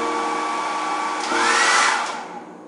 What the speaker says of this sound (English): Look how far the blow dryer is angled.